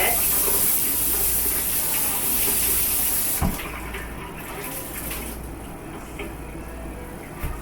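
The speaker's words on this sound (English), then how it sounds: "you just let it simmer" A big pot of Florida Georgia-style crab boil simmers with a steady, dense bubbling hiss, loud and close at first, then settling to a softer, quieter bubbling after a few seconds. Nobody talks.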